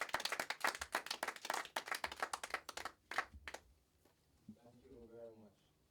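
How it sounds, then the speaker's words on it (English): Audience at a reggae workshop clapping to welcome a teacher: sparse, distinct hand claps in an uneven rhythm that thin out after about four seconds, followed by a voice. "Give him a round of applause as he comes to teach us."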